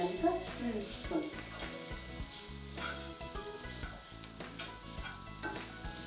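Dates frying in ghee in a pan for carrot and date halwa, a steady dense sizzle with scraping stirring strokes throughout, faint talk in the background.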